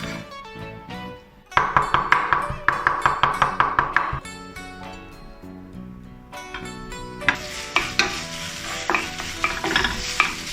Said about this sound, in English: Stir-fry the minced pork in the pan to render the oil.